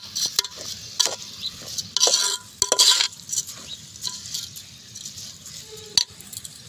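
Rice being stirred into a frying pot for vegetable biryani, with a series of scraping clinks and stirring strokes against the pot over a low background sizzle, close and moderately loud.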